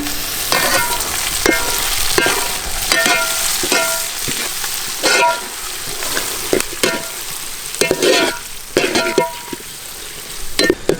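Tomatoes sautéing in a pan after onions, with a constant loud sizzle broken by frequent sharp scraping and clanking strokes of a spatula as they are stirred.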